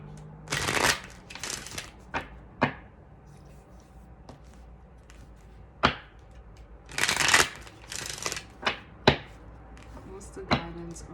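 Tarot cards of a Kemper deck being shuffled by hand, irregular riffling bursts and sharp taps spread across the clip, close and fairly loud against a quiet room.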